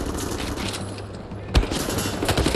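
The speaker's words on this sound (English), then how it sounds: "Oh, they're still shooting at us." Gunfire in Wolfenstein The New Order rattles in dense bursts with one sharp close boom midway, loud and continuous throughout.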